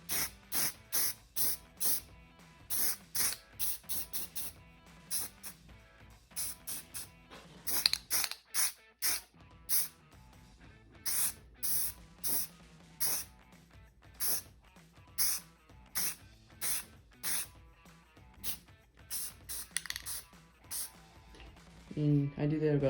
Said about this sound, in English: Spray all around it.